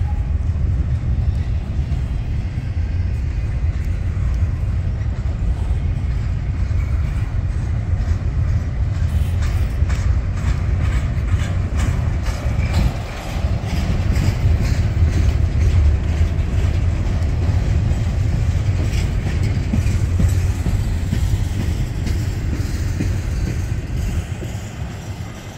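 A slow-moving Union Pacific train creeps past close by, a steady loud low rumble with faint clickety-clack of wheels throughout, alone without talk.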